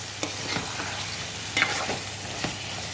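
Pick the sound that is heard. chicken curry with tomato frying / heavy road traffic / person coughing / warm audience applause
chicken curry with tomato frying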